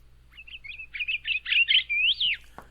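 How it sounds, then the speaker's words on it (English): A northern cardinal sings a clear, whistled phrase of rising and slurred notes, ending on a long upward sweep, alone against a quiet background. "It's a medium-sized, plump, heavy-chested songbird with 2 white wing bars and a large, stubby, curved bill. The male is mostly red, the female mostly gray."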